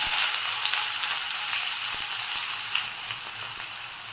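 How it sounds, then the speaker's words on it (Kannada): Chopped onion for egg tikka masala fries in a hot pan, producing a loud, dense, continuous sizzle with small crackles, close and with no voices. "ಹಾಕ್ಕೊಂಡು ಚೆನ್ನಾಗಿ ಸಾಫ್ಟ್ ಆಗೋವರೆಗೂ ಫ್ರೈ ಮಾಡಿ"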